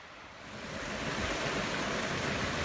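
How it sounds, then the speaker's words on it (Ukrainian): Rushing waterfall at its source high in the Chornohora mountains, a dense steady roar of falling water that swells slightly at first and then holds loud and close with no voices. "Витік водоспада."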